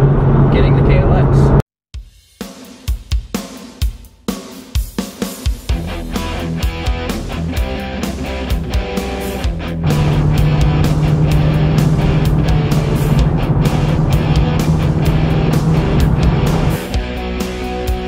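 A car heads out on the road, with several sharp knocks and clicks at first, then a steady engine and road drone that grows louder and more constant midway. A voice may be faintly present at times.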